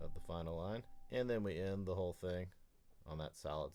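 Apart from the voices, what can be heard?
No everyday noise stands out behind the speech.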